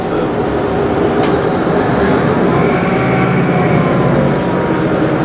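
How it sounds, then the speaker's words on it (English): Inside a moving passenger train carriage on a local line, a steady loud rumble and rolling hum of the wheels and running gear fills the whole stretch, with faint mechanical rattles and hiss over it; a voice talks quietly beneath the noise. "let's get on this train"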